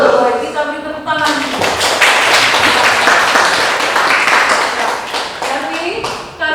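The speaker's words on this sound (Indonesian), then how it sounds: "Kita beri tepuk tangan." Students clapping in a classroom, a burst of close, loud hand claps that swells quickly and tapers off over several seconds, with voices heard around it.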